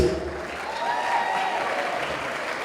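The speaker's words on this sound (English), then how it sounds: "give yourselves a big round of applause" An audience claps steadily at a wedding reception, a dense even wash of applause that holds at the same level throughout, with no one speaking.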